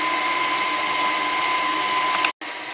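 An electric mixer creaming butter and sugar at medium speed, a loud, steady, high whirring motor hum that cuts out abruptly for an instant near the end before running again.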